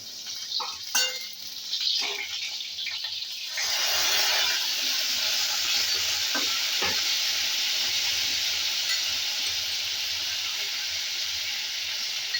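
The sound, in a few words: pointed gourd frying in pan with yogurt added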